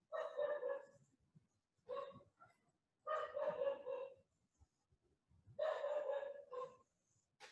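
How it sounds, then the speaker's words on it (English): A dog barks in four separate bursts of rapid, loud barking with short silent gaps between them, heard clearly with no talking over it. "Sorry if you hear a dog in the background."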